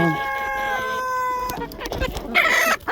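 White silkie chickens cluck close by, with a sharp crow-like call and a burst of loud squawking toward the end.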